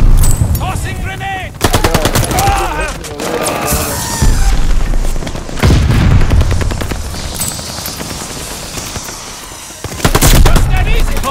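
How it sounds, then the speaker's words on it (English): Call of Duty: Vanguard battlefield combat with loud bursts of machine-gun fire, heavy booms of a grenade blast and explosions, close and intense, with shouted in-game voices mixed in. "Tossing grenade!"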